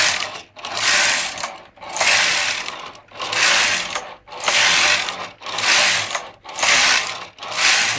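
A knitting machine casting on with alternate needles: the carriage makes repeated rasping, ratcheting sweeps, about eight back-and-forth passes with short gaps between them, close and loud.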